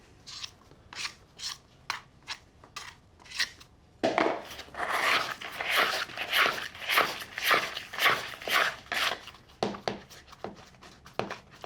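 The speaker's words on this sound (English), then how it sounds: "Again, my scraper. Tidy up the bowl." Dough scraper rasping around the inside of a bowl while tidying sourdough starter, a series of rhythmic scraping strokes close up, faster and louder in the middle, with no talk.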